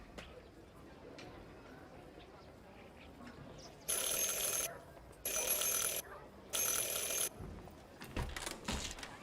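A counter bell in a shop in the Syberia: The World Before video game rings three times in evenly spaced, bright metallic bursts over a quiet background, followed by faint clicks.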